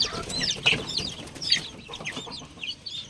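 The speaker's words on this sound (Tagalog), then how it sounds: "Ayan yung mga native na napisa sa incubator." Newly hatched native chicks from an incubator peep in a steady cluster of high, thin chirps, several birds calling close by with overlapping rhythms and no talk.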